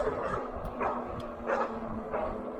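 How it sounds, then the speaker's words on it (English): A dog barks outdoors in a slow, regular series of three or four barks, moderately close, over a low background hum. "Mean dog."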